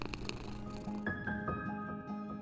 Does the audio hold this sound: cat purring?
yes